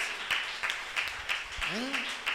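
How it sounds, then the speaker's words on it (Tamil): A church congregation claps in a steady rhythm during a Tamil worship service, the claps evenly spaced and moderately loud beneath singing or voices, with a brief sliding tone near the end. "கைத்தட்டு."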